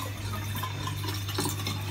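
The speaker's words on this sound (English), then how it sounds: "Pour it into your" Water pours steadily into a cup or glass at a bathroom sink before tooth brushing, a soft continuous trickling close by with no talk over it.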